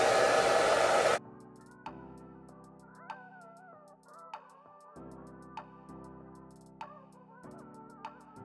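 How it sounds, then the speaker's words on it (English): A blow dryer on its heat setting drying hair roars loudly with a steady rushing whoosh for about a second, then cuts off abruptly, leaving quiet tones and faint ticks. "I like to take my blow dryer on the heat setting and blow dry."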